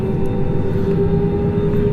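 A Singapore Airlines airliner departs an airport in the Cook Islands, heard as a loud, steady jet roar with a constant engine whine, continuous and unbroken, no voices.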